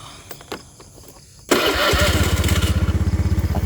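A motorcycle engine, on an ojek motorbike taxi, catches with a sudden loud start and settles straight into a steady, close, pulsing idle, after a few faint knocks and clicks.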